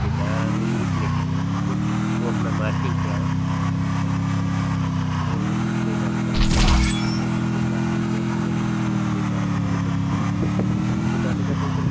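A vehicle's engine drones steadily in the video game Free Fire, with its pitch rising and falling as it accelerates and a brief impact burst partway through. Someone speaks briefly over it.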